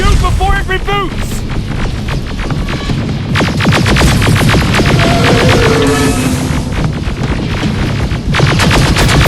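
Heavy gunfire in the Terminator Resistance shooter, loud rapid bursts amid booming impacts and a throbbing hum, with shouting voices and electronic tones over the din.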